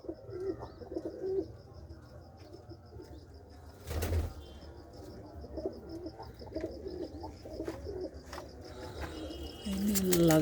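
Pigeons kept in a loft, including a white-marked bird, coo steadily and close by amid rustling and a brief burst of wing flapping, with faint chirps and a louder flutter near the end.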